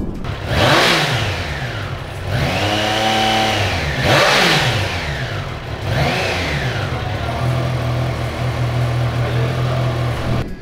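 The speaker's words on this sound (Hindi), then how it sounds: "तो आइए सुनते हैं ट्रैम ट्राइडेंट 660 का एग्जॉस्ट नोट" Triumph Trident 660 motorcycle revving close up, its exhaust snapping through three sharp rising-and-falling blips before it settles into a steady idle, with nobody speaking.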